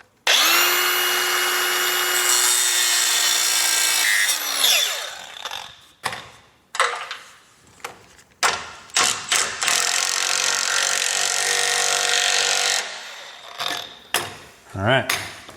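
A cordless tool fitted with a fresh cutting wheel screams loudly through metal while installing a lift, then gives way to short intermittent grinding bursts, clanks and handling noise up close.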